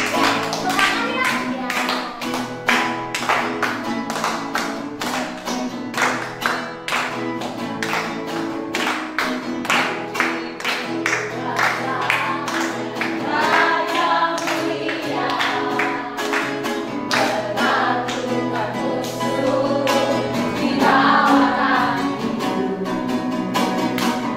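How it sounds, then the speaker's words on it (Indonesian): Many people clap in a steady rhythm during a lively children's worship service, the claps loud and dense over music and singing voices that carry throughout. "Ayo kita mau tepuk tangan."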